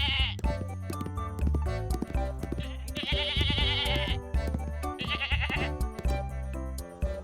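A goat in a village goat-race story bleats several times, loud and close, with short wavering cries separated by brief pauses.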